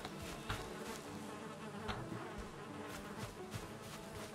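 Bees buzz steadily in the Valheim video game, a dense continuous insect drone with slight pulsing swells throughout, close and moderately loud with no voices.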